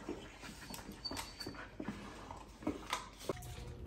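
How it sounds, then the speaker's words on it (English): Dogs being readied for a pet flight give soft whimpers and short muffled yelps in scattered bursts over low background noise, fairly faint and without talk. "He's barking."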